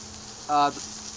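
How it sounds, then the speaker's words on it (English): Tuna steak searing on a hot grill gives a short, loud burst of sizzling lasting about a quarter second, rising from and falling back into a steady low background hum. "So you just sear all ends of it."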